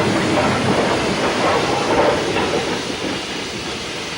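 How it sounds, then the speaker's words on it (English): Black 5 steam locomotive 45321 fly shunting in the yards gives a steady rushing hiss mixed with rolling wagon rumble, fairly loud and continuous without distinct beats. "Black 5 45321 busies itself fly shunting in the yards."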